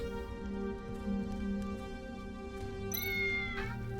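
A cat meows in the Neon Sea video game, heard over a tonal music backdrop, with a sharp, rising meow and a shorter follow-up near the end, no talking.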